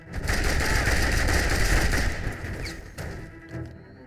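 Sustained .50 caliber machine gun fire in the video game Mercenaries 2: World in Flames, loud rapid continuous bursts that trail off into scattered shots near the end.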